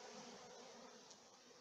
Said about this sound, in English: Bees are going all after the scent of the exhaust of the vacuum.